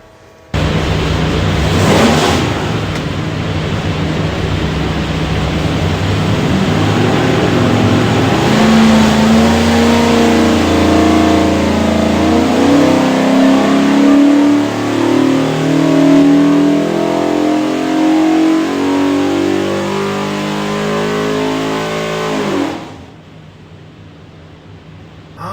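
A Ford 363ci V8 fitted with Edelbrock Pro Flo EFI, built for a '74 Bronco, makes a loud, sustained dyno pull, the engine note climbing steadily in pitch for about twenty seconds before cutting off abruptly.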